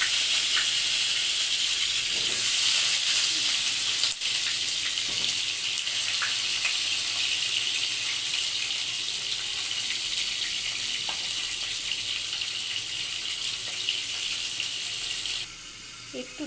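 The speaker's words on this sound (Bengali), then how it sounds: "প্রথমেই আমরা কড়াইতে তেল দিয়ে তেলটা গরম করে পটলগুলো ভেজে নেব।" Pointed gourd (potol) frying in hot oil in a wok gives a steady, close sizzle that holds evenly for about fifteen seconds before dropping off near the end.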